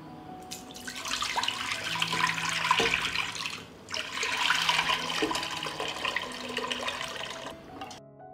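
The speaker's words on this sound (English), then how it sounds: "After 20 minutes, I will pour the water from the pan into the pan." Water poured from a pan in a home kitchen, a loud sustained gushing stream that pauses briefly midway, then resumes and tapers off, with no talking.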